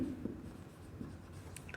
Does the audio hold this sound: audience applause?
no